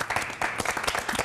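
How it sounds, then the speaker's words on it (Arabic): Applause for a contestant on a Moroccan TV quiz show, a short burst of scattered hand clapping from a small audience, moderately loud, lasting just over a second with no voices on top. "صفقوا له"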